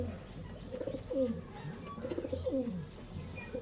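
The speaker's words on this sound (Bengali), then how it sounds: "এটা হচ্ছে নরেন্দ্র কলি স্যারের পায়রা" Domestic pigeon of the Mangalgiri type cooing in repeated low throaty phrases, fairly close and moderately loud, with faint background noise and no talk.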